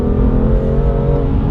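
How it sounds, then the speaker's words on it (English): BMW M2 Competition accelerating hard at full throttle in third gear from around 3000 rpm, a loud, steady engine roar close to the car, with no talk over it. "third gear, 3000 revs, put my foot on the floor."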